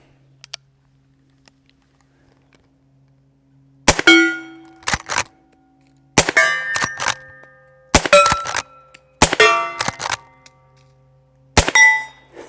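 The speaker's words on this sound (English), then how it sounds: "So let's do a little shooting." A Marlin 1894 rifle fires low-decibel .44 loads outdoors: about seven sharp, fairly quiet shots at irregular intervals, each followed by a short metallic ring, with near silence between them.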